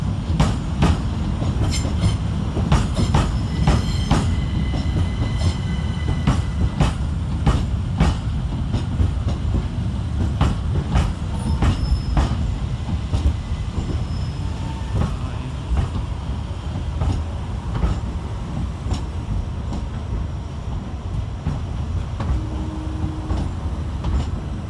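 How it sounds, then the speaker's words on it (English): Two Southeastern class 375 electric trains arrive at London Charing Cross station, a steady rumble of traction and rolling stock with repeated clickety-clack wheel beats over points, a faint squeal and no talk. "let's get started here at London Charing Cross with 375610 and 375805, terminating 7 minutes late with a Southeastern service from Ramsgate"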